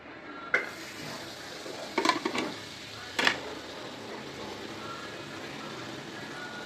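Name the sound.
onion, tomato and capsicum frying in butter and oil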